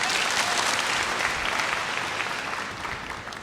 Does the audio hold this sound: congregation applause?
yes